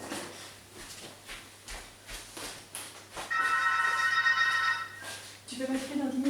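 A telephone rings indoors in a brief patterned burst partway through, under and between a woman's speech, with room noise throughout.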